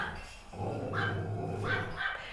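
A dog barks and growls faintly in the background of a home yoga session, with a few short yips spread over the stretch.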